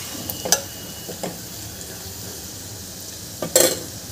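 A spoon scrapes and stirs tondli bhat masala with ivy gourd and chillies in a sizzling pan, a steady frying hiss broken by a few sharp clinks of the spoon against the pan, close up and with no talking.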